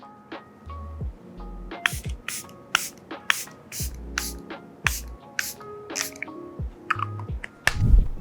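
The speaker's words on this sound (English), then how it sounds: "To set the makeup, I'm going to set with Charlotte Tilbury Airbrush" Charlotte Tilbury Airbrush Flawless Makeup Setting Spray misted in a dozen or so quick, close, sharp pumps at an uneven rhythm, each a short hiss, with faint handling clicks between.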